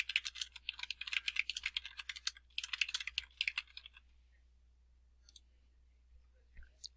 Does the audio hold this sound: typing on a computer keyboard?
yes